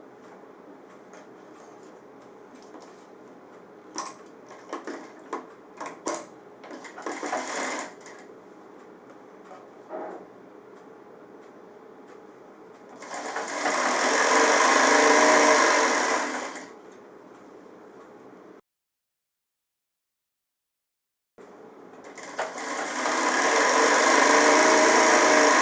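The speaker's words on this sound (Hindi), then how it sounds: "अब मैं इसकी भी सिलाई लगा देता हूँ।" A tailor's sewing machine stitches a pajama seam, starting with scattered short whirring bursts. Two sustained runs follow, each several seconds long and separated by a silent pause, the motor buzzing steadily and fairly close.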